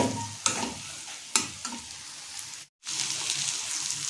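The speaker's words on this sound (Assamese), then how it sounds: "মাংসখিনি মোৰ প্ৰায় ভাজি লোৱা কমপ্লিট হৈ গ'ল" Duck meat and potatoes fry in a pan, sizzling closely under several loud utensil knocks and scrapes. There is a brief moment of silence near the end before the steady frying resumes.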